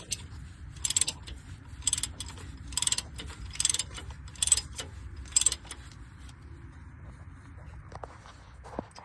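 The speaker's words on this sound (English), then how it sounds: "I was running out of room with my 1/2-inch drive ratchet as the bolt was backing out." A 1/2-inch drive ratchet loosens a 14 mm bolt on the camshaft cover of a Honda Odyssey, giving short, repeated bursts of clicking at a steady pace, close and fairly quiet.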